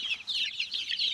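Several chickens on a farm keep up a steady chorus of soft, overlapping clucks and chirps, moderately close, with no voices over them.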